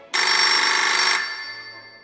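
A mobile phone ringtone plays loud and steady for about a second, then fades away in a short echoing tail, with no voices alongside.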